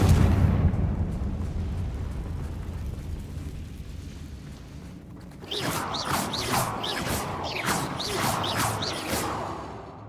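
A Confringo blast spell from a video game goes off after a spoken cue: a heavy rumbling burst swells, drops away, then gives way to a bright crackling flurry of magical whooshes and chirps that carries on loudly to the end.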